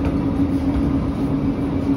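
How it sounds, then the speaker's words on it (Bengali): Shivalik Deluxe Express pulling out of Kalka station, a steady low rumble and hum of the moving train that stays even and loud for the whole stretch, with no voices. "শিবালিক ডিলাক্স এক্সপ্রেস ছেড়ে দিল কালকার উদ্দেশ্যে"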